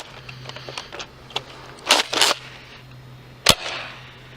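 A Nerf Rival blaster loaded with generic eBay foam balls shoots in a few short mechanical bursts: a quick pair of thwacks, then a single sharp snap after a pause, over a faint steady hum.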